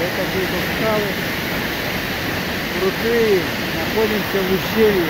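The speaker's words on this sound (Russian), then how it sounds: "Вот такой бурлящий, кипящий водопад." Rushing Chara waterfall in a rocky gorge at Rosa Khutor, a steady loud broadband roar of churning water close by, with someone talking over it.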